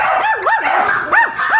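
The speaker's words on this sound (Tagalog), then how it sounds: "Nakakatulig lang sila, ang ingay nila doon. Ano yun, oh? Ang daming aso" A group of dogs barks, yips and whines at once, overlapping rising-and-falling cries in a loud, close, noisy chorus with no talking.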